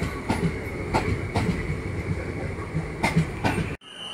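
A passenger train rolls along rails with rhythmic clickety-clack wheel beats and steady rumble, heard close and fairly loud before cutting off abruptly.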